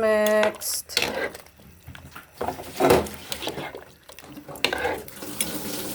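A pot of pork sinigang soup being stirred, with a spoon scraping and sloshing through the broth in short, uneven strokes, close by and moderately loud.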